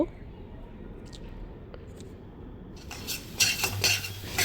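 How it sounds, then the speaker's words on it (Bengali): Pea paste stirred into ghee with asafoetida in a pan, faint quiet scraping early on, then louder utensil scrapes and clinks against the pan near the end. "পটল কলাইয়ে পেস্টটা এর মধ্যে দিয়ে দেব একটু ভালোভাবে নাড়ব"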